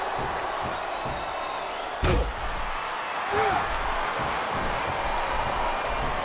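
Steady roar of a packed arena crowd in the wrestling video game WWE SmackDown vs Raw 2007, a dense continuous wash with a single sharp slam thudding through about a third of the way in.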